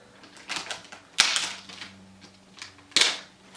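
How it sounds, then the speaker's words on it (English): Protective plastic film peeled off the back of an iPad Air 2 during unboxing, heard as three crackling tearing rips close by, each sharp at onset and fading, with quiet gaps and a faint low hum between. "we'll peel this plastic off"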